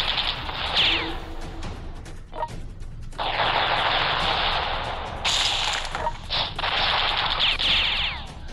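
Machine gun fire from the strategy war game World Conqueror 4 rattles in dense, continuous bursts, broken by short pauses and sharp cracks, loud and close with no talking.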